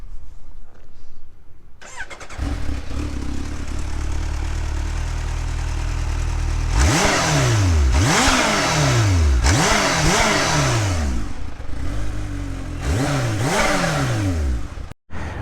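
A Kawasaki Ninja H2 motorcycle engine cranks and catches, settles into a loud idle, then is blipped through four or five sharp revs that rise and fall in quick succession before the engine cuts off.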